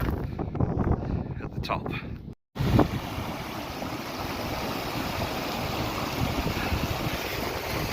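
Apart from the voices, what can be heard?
wind blowing outdoors in the Cairngorms, Scotland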